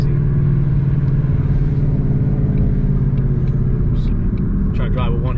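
Ford Mustang with longtube headers and a Borla ATAK exhaust, heard from inside as a deep, loud, continuous burbling rumble under load, with a voice talking briefly over it near the end.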